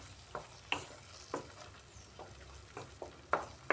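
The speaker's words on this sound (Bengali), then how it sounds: "এভাবে ধীরে ধীরে এখন আমি এটা কষিয়ে নিচ্ছি মশলাটাকে" A spice mix with potol and paneer is slowly stir-fried over low heat, giving faint, soft scraping strokes at irregular intervals over a quiet, gentle sizzle.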